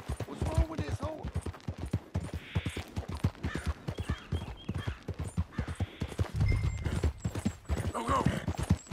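Horse hooves clip-clop on the ground in the video game Red Dead Redemption 2, a steady rhythmic trot close by, with someone talking over it.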